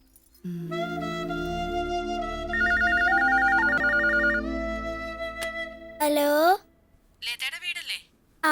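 A telephone rings with a repeating electronic trill over background music, followed by a few short louder bursts near the end.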